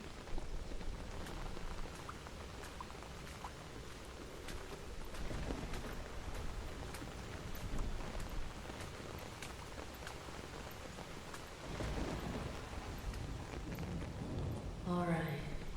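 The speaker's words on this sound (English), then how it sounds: "let's go ahead and get you out of that rain" Steady rain falls close by, a dense hiss of drops on surfaces that continues throughout with small swells in intensity.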